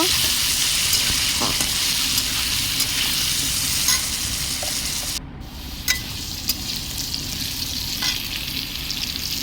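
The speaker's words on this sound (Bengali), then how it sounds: "আলুগুলো লাল লাল করে ভেজে নেব।" Potato pieces fry with turmeric in a pan, giving a loud, continuous close-up sizzle that dips briefly midway, with a few light scrapes and clicks over it.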